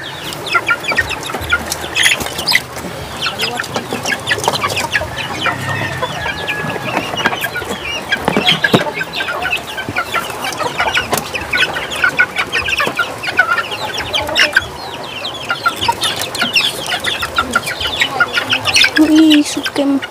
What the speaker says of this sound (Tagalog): magpapakain ng kanyang naiwang mga manok po dito sa kanilang bahay